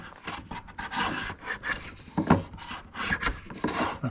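Block plane shaving wood end grain, heard up close as repeated short rasping strokes in an uneven rhythm, with no talking.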